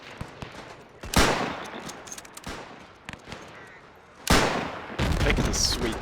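Gunfire in a WW1 strategy game: scattered sharp reports, then two heavy bursts of sustained firing, the last running to the end, loud and close.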